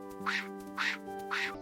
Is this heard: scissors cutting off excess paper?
no